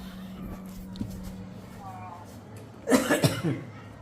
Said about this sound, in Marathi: कफ सारखं खोकला खूप आहे